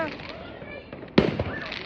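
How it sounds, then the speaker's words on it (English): Fireworks burst on Bonfire Night outdoors, with a sharp nearby crack followed by crackling pops, heard under ongoing talk from people close by. "There's fireworks everywhere."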